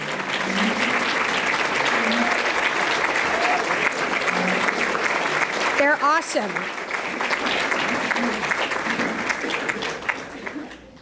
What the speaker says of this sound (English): I'd like you, the crowd, to please give them a round of applause